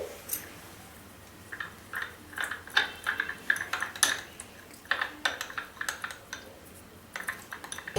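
Spoon stirring three pinches of baking soda into a purple homemade food colouring in a small dish, with light scraping and clinking taps that come unevenly and close up.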